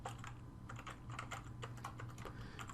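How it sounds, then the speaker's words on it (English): A quick, faint run of computer keyboard keystrokes as a password is entered, with irregular clicks tapping along steadily and close by. "Make sure I type in my password correctly."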